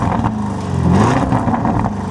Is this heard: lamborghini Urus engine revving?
yes